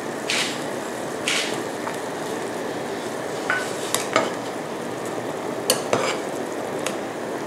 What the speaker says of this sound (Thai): เสร็จแล้วนะคะเราจะใส่ข้าวคั่วค่ะ